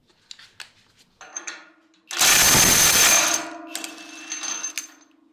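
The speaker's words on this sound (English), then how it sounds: "As you saw, when you're loosening the bolt, the impact wrench goes automatically down with the speed" A Metabo SSW 18 LTX 1750 BL 18V cordless impact wrench loosening a bolt, giving a loud, dense burst of about a second of hammering before dropping to a lower, steadier whir, with lighter clicks and handling noise around it.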